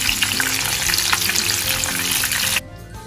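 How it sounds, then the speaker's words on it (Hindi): Peri peri cheesy bites sizzle loudly in hot frying oil as they are gently turned, with busy crackling and stirring noises that drop away abruptly near the end. "हमने पेरी पेरी बाइट्स को बहुत अच्छा सा फ्राई किया है, बिल्कुल क्रिस्पी और गोल्डन ब्राउन हो चुकी हैं"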